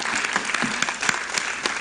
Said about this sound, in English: we ought to give them a round of applause